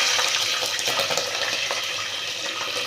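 Green chilies dropped into hot oil for a country chicken and drumstick stew, a loud, close, continuous sizzle and crackle that stays steady throughout with no talk.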